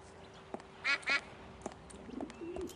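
A cartoon duck quacks in the adventure game Escape From Monkey Island: two loud nasal quacks in quick succession over a faint ambient game background, with a few soft clicks around them.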